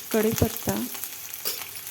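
Green chillies, slit lengthwise, sauté in hot tempering oil for a cabbage dish, giving a short close sizzle with a few stirring scrapes.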